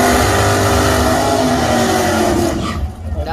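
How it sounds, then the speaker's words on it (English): A big-block V8 race car accelerates hard down a drag strip, its loud, steady engine roar filling the scene before easing off near the end, with people talking nearby. "That's a big block, Dylan."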